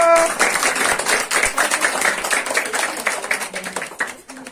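Children and adults at a birthday and Children's Day celebration clap together after the birthday song, a brisk, fairly loud patter that fades toward the end, with voices mixed in.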